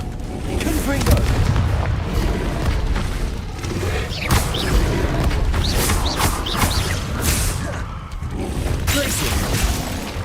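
Repeated booming blasts from the Confringo fire curse in Hogwarts Legacy burst irregularly over a busy spell-combat mix, loud and close, with crackling debris and other spell effects between the hits.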